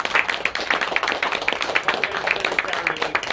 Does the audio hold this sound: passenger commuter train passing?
no